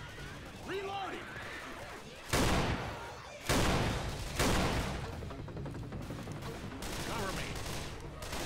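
Explosive-ammo gunfire in Left 4 Dead 2 on the Death Toll town map, three loud broadband bursts that cut sharply over a noisy game background, with a voice speaking briefly before them.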